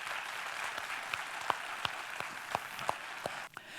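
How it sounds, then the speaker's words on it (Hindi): Steady applause from a crowd, a continuous wash of clapping with a few sharper individual claps standing out, fading slightly at the end. "एक बहुत जबरदस्त ताली होनी चाहिए।"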